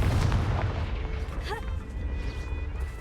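A Confringo blasting spell in Hogwarts Legacy goes off as a deep, booming explosion at the start and rumbles on briefly, with a small magical whistle partway through.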